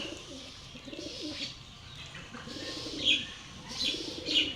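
Pigeons coo in soft, rounded bursts, with a few sharper chirps and a rustle of wings now and then, close by and fairly quiet.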